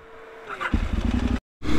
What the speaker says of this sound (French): Je vais essayer la moto de Léandre